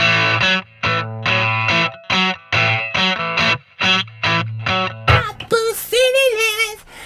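A distorted electric guitar played through a 1970s HH transistor amplifier plays a choppy, rhythmic riff of repeated chords, then shifts into a wailing, bending lead phrase.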